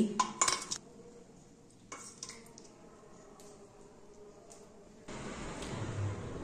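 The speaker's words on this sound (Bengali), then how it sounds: "মাংসটাকে তুলে নিচ্ছি।" Cooked chicken lifted out of a pot with a metal utensil: a few close clinks and scrapes against the pot at the start, then quieter handling with a soft burst of noise near the end.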